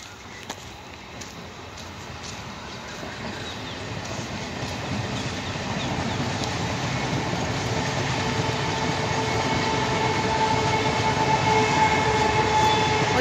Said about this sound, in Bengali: ওদিক থেকে ট্রেন যাচ্ছে, ট্রেন আসছে।